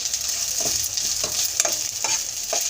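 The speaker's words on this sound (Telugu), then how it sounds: "ఇందులోకి రుచికి సరిపడా సాల్టు, కారం వేసి ఒక్కసారి వేయించుకుందామండి." Ginger garlic paste with salt and chili powder frying in a pan, a steady close sizzle broken by several soft scraping stirs at regular intervals, with no one talking.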